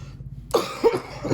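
Three coughs in a row, close and fairly loud, the first after a brief quiet pause and the others spaced about half a second apart.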